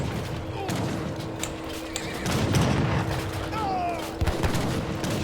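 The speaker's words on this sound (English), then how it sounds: "Skirmishers getting some shots off," Skirmisher units firing guns in a match of Age of Empires 3 Definitive Edition, a spread of crackling musket shots and booms over a busy battle din, with someone talking throughout.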